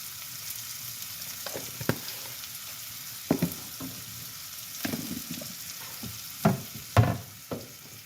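Onion with turmeric and asafoetida sautés in a pan for a fenugreek bhaji, a soft continuous sizzle broken by sharp spoon scrapes and stirring clatters.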